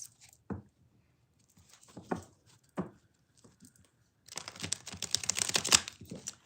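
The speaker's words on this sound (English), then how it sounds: "Let me get them shuffled for us" Soft papery riffling and snapping of tarot cards being shuffled, a few isolated flicks followed by a rapid, louder burst of cards riffling together; quiet and close.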